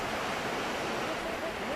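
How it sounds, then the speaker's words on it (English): A rushing torrent of water roars through a mountain gorge in China, a loud, steady, unbroken wash of noise that fills the whole moment. "You look down and you just see and hear this mountain of water"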